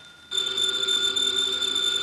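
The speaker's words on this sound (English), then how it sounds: "The phone, if you please, Mr. Goodwin" A telephone rings in a radio drama, a steady, loud electric bell tone that starts abruptly after a quiet moment and holds without a break.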